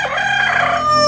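Rooster of an imported chicken breed crowing, a single sustained, loud crow heard up close with no other sounds.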